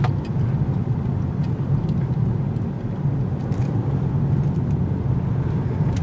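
A 2019 Kia Forte economy car cornering around a turning circle, its engine and tire-on-road rumble steady and fairly loud from start to finish, with no voices over it.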